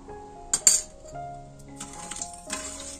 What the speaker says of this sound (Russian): Хорошо все размешали, чтобы растворилось.